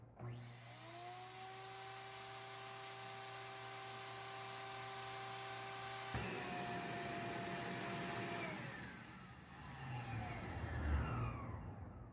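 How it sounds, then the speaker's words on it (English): A shop vacuum with reversed hoses runs as a blower, motor roaring steadily with a whining hum, shifting pitch midway and then sputtering and rumbling as airflow changes, close and continuous. "if you reverse the hoses, you got a blower instead of a vacuum."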